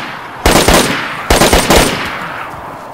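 Two loud bursts of rapid automatic gunfire from a video game, each a tight cluster of sharp shots, separated by a short pause and trailing off into quiet, with no talking over them.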